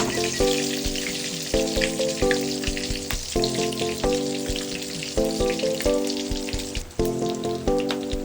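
Lechon kawali, pork belly, frying in oil in a pan, with loud, continuous crackling and sizzling close up, overlaid by a repeating tonal music loop.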